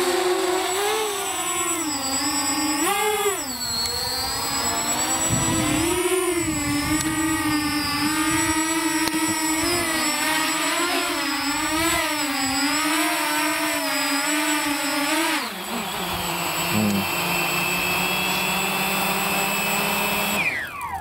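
Walkera Furious 320 GPS quadcopter motors at full throttle, a loud, high electric whine that rises and wavers in pitch, holds, then drops sharply near the end before climbing again.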